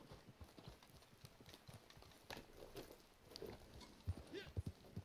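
Horse hooves clip-clopping in the video game Red Dead Redemption 2, an irregular run of faint hoofbeats that grows denser and louder toward the end, with background game ambience.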